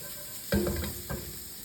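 Chunks of fresh red onion and other vegetables sizzle in a hot pan alongside spiced pork tenderloin, with a sharp burst of frying and stirring, then a second shorter hiss, close and alone.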